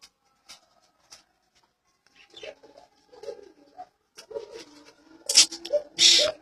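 Pigeons coo softly in a quiet setting, with scattered low murmuring calls and a few wing flaps or rustles building toward the end.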